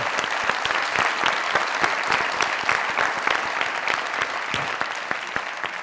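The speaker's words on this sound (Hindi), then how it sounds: "अब जोरदार तालियां एक खूबसूरत लड़की के लिए" Loud, dense applause from a studio audience welcoming an actress guest onto a talk show, sustained and even throughout, with no voices over it.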